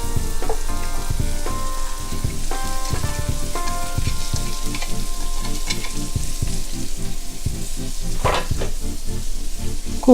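Cabbage with turmeric for a Kerala cabbage carrot thoran stir-fries in a hot pan, a loud close crackling sizzle punctuated by repeated rhythmic scrapes and clinks of the stirring spoon.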